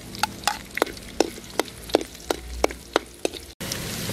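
Garlic sautéing in hot oil: a steady low sizzle under a run of sharp, evenly spaced utensil taps against the pan, about two or three per second, close by, ending with a sudden cut to a hissier fry.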